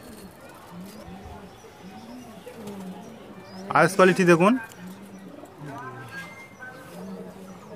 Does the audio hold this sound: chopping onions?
no